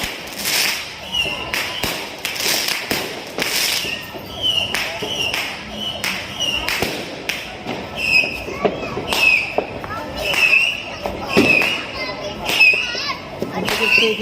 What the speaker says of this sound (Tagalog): Lapit lang ng fireworks.